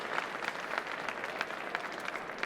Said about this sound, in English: Give a warm applause, please